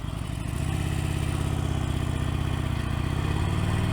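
A Harley-Davidson Sportster Forty Eight motorcycle pulls away in first gear, its engine rumbling loud and close with a steady, rising drone that holds throughout.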